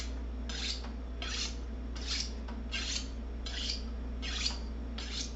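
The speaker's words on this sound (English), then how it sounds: "Sharpen up the knife a little bit." A kitchen knife is sharpened with seven evenly spaced scraping strokes, each a bright rasping swipe over a steady low hum, close and clear, with no talking.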